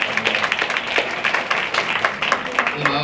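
An audience at a Daegu-Gyeongbuk ceremony gives brief, steady applause, with a person speaking over the clapping.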